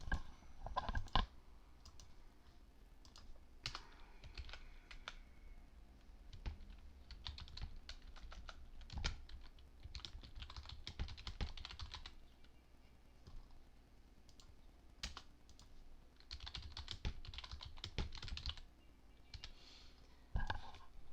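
Typing on a computer keyboard, close and moderately quiet, with irregular bursts of key clicks and pauses between them, no voice heard.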